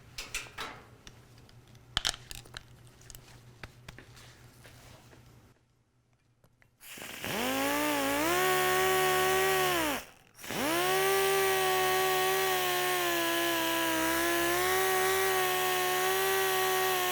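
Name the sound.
sanding car paint with 1500 grit dry on interface pad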